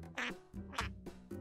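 A duck quacks indoors in a small closet, giving about four short, close, fairly quiet nasal quacks in an uneven sequence.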